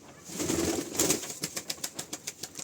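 A pair of pigeons released from a loft: soft cooing at first, then a steady run of quick, close wingbeat flaps that fade slightly as the birds move off.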